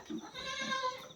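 A single high, wavering bleat from a newborn goat kid born that morning, close by and about a second long, with no other sounds around it.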